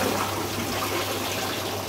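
Water pouring over a weir in a hydraulic flume, a continuous close rushing and splashing with a faint low hum underneath.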